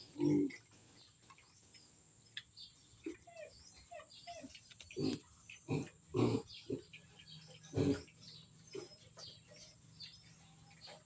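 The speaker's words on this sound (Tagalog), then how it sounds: "so may alaga na din po tayong baboy" Pigs and piglets grunt and oink repeatedly at a moderate distance, with faint bird chirps in the background.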